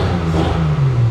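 Supercharged 1973 Triumph TR6 engine revving close by, a loud brief surge with a rising growl and a steady drone throughout.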